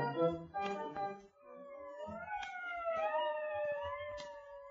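An ambulance siren wails in a dramatized scene, its pitch sweeping up and down in long overlapping glides that grow steady and prominent after a brief burst of other sound.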